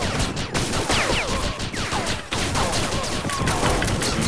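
Rapid, dense gunfire fills a sawed-off shotgun exchange in The Specialists shooter game, loud sharp blasts layered over continuous battle noise with a brief lull near the middle.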